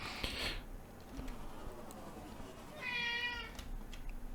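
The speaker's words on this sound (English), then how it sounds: "There's a cat behind me wanting to get out." A cat meows behind a door, wanting to be let out; two quiet meows, one short early and a longer drawn-out one later, over a faint low background hum.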